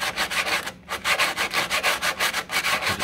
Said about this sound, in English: sanding until it starts opening up